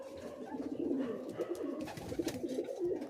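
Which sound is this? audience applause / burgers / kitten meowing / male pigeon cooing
male pigeon cooing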